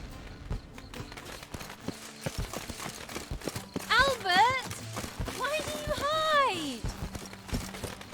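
Horse hooves clip-clop steadily in The Witcher 3, with a couple of loud neighs and whinnies breaking in midway; a voice speaks over the hoofbeats.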